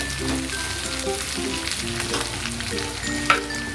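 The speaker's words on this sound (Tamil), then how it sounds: "முந்திரி பருப்பு இது கொஞ்சம் லைட்டாக ஃப்ரை ஆனது" Cashew nuts fry lightly in oil in a pan for curd rice, giving a soft, steady sizzle with faint crackles and a small clink near the end, quiet and close.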